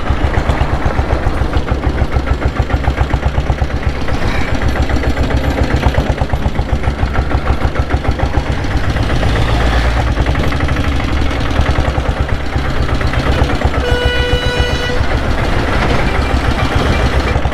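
A Royal Enfield diesel Bullet motorcycle thumps along at a steady, loud rhythmic chug throughout the ride, its low pulsing beat continuous with no talk.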